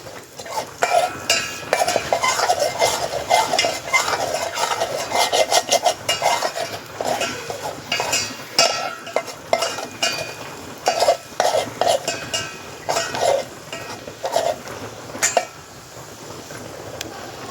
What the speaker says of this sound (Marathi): थोडासा मसाला भाजून घ्यायचा आपल्याला